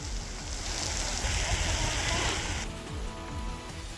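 Heavy pre-monsoon rain pours down steadily, a dense, loud wash of drops hitting surfaces that continues through the whole clip.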